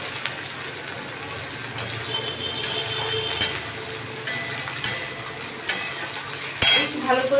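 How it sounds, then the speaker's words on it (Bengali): Onion, green chilli and tomato fry in oil in a pan, with a low crackling sizzle beneath repeated sharp clinks and scrapes of a utensil stirring against the metal. "এবার তেলের মধ্যে আমি পেঁয়াজ, কাঁচা লঙ্কা, টমেটো দিয়ে দিই।"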